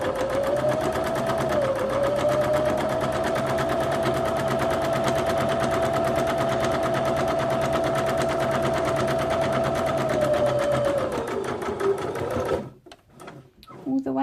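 Sewing machine running a 1/4 inch seam down patchwork fabric for a taggie comforter: a steady, close mechanical whir holds for about twelve seconds, then stops, leaving brief quiet rustles.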